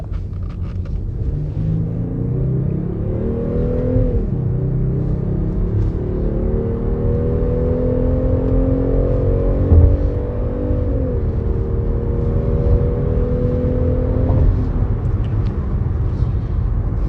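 A Kia K9 sedan accelerates hard, its engine note climbing steadily through the gears with clear shift dips, loud and continuous over a low road rumble, with no talk.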